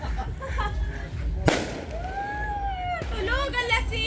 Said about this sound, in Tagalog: Paputok.